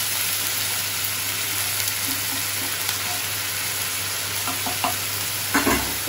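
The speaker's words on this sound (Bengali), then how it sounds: "আদা বাটা, পেঁয়াজ বাটা ভালো করে কষতে হবে" Ginger paste and onion paste sizzle and fry steadily in a pan, a continuous close hiss with occasional soft stirring scrapes and no talking.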